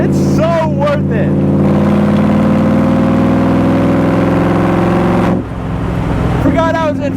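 Close inside a Superformance Shelby Cobra on the move, a loud, deep engine drones steadily, dips briefly and then picks up again, while a voice speaks over it at the start and the end.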